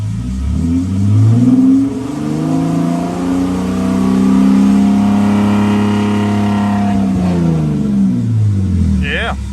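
Nissan Xterra engine with a Flowmaster exhaust revving up and settling back down twice, a deep, loud rumble rising and falling in pitch close by.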